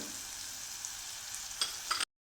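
Green chilies fry in a pan for an ash gourd curry, giving a steady, soft sizzle with a few brief stirring scrapes near the end before the sound cuts off.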